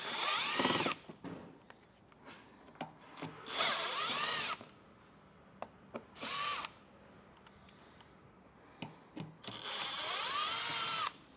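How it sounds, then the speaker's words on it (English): A power tool backs six T15 screws out of the fascia on a 2024 GMC Canyon pickup, giving short bursts of whirring separated by quiet gaps. "Underneath of our fascia, we have 6 T15 screws. We're going to get them removed."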